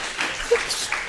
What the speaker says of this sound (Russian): Есть, аплодисменты.